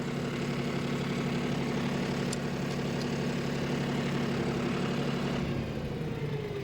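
A John Deere 5405 4x4 CRD tractor engine runs smoothly at a steady medium pace, giving a constant droning hum with a faint metallic click near the middle. No one speaks over it.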